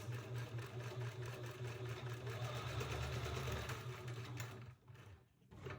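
A home sewing machine runs continuously at a steady, moderate pace while stitching fabric for a scrunchie, giving a close mechanical hum and rapid needle rattle that briefly dips near the end.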